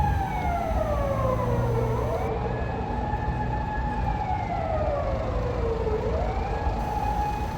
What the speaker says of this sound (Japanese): こういうエリートが集まる街で聞くサイレンもおっかないですね。